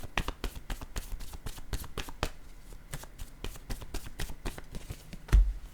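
Playing cards handled and set down during a tense party card game, producing a fast run of crisp close taps and riffling flicks, ending in a louder thump.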